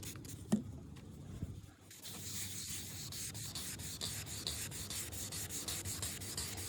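Wet sanding of a car headlight lens on an Infiniti G35/G37 with 1000-grit sandpaper: a steady, close, raspy rubbing with a fast back-and-forth rhythm, continuous after a brief pause and a single knock.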